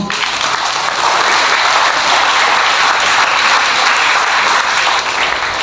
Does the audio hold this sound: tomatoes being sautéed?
no